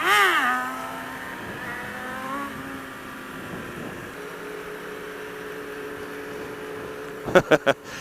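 A motorcycle on a Miami group ride, revving as the rider pulls a wheelie, gives a steady droning engine note that shifts in pitch, with a few sharp bursts near the end.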